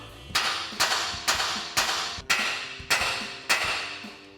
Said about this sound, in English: we can grab a hammer to tap on the side of the knuckle here to break our ball joint free